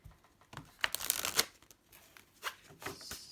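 A deck of tarot cards is shuffled by hand. Quick bursts of riffling and papery flutters come up close, with short quiet gaps between them.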